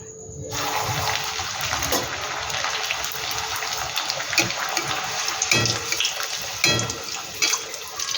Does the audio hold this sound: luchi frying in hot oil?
yes